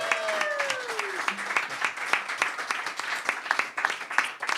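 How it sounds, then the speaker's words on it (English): Audience applause at a folk music concert, a dense run of hand claps that stays steady and close, with a voice briefly trailing off at the start before the clapping carries on alone. "I would like a really big round of applause for Heo"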